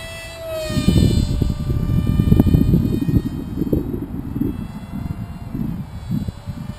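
A TeamLegit Wombat prototype RC plane flying by at about 30% power, a buzzing propeller drone rising and fading over several seconds, moderately near and mixed with wind rumble.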